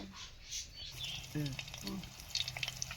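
Mango pickle cooking in plenty of hot oil in a kadai, a soft sizzle with scraping stirs and clinks, quiet and close, with brief voice-like sounds in between.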